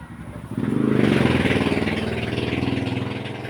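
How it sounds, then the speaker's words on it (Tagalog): A noisy motorcycle passes close by, its engine swelling to a loud throbbing rumble and then easing as it moves off a little, with no talking. "May maingay na motor"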